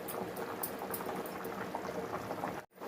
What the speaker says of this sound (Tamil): குழம்பு நல்லா கொதிச்சிட்ருக்குங்க.